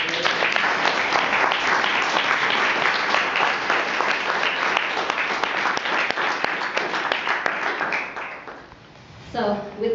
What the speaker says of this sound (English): request everyone here to join me in applauding their work